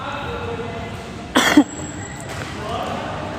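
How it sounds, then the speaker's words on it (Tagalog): A short burst of two quick coughs, close and fairly loud, against a steady background hum. "Please bear with me guys kasi inuubo talaga ako ngayon."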